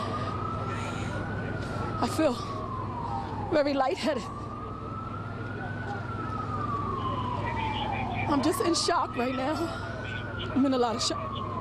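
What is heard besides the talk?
emergency vehicle sirens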